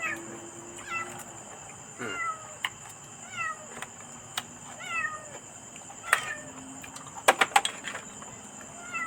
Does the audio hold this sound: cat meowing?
yes